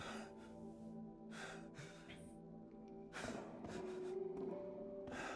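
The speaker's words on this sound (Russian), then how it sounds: "А что ты так тяжело дышишь?" A character in the video game Resident Evil Village breathes heavily in repeated gasping, snorting breaths, close and moderately loud over a low ambient game hum.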